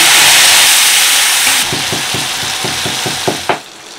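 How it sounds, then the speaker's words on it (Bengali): Chopped tomato hits fried cumin tempering in a pan for ghugni, giving a strong sizzle that settles into a softer hiss with a series of quick stirring taps near the end. "ফোড়ন ভাজা হয়ে গেছে, এর মধ্যে আমি মিশিয়ে দিচ্ছি টমেটো কুচি"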